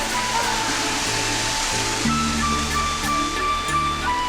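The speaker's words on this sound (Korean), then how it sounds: "여행 중에 이렇게 시원하게 떨어지는 폭포수를 만나니 기분도 너무 좋고요" A waterfall pours down in the mountains of Shanxi, China, making a steady, full roar of rushing water throughout, with soft music running beneath it.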